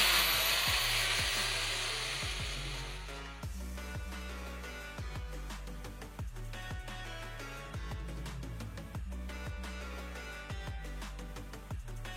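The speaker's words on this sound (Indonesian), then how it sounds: "kita pasang di bor pada asnya, dan kita amplas pakai amplas 400, sedikit halus kasar. Kita tekuk aja amplasnya, kita nyalakan." An electric drill spins a shaft while 400-grit sandpaper is folded against it, a steady whirring grind with faint rhythmic scraping pulses, close and continuous throughout, while work on a Mio J scooter's starter goes on.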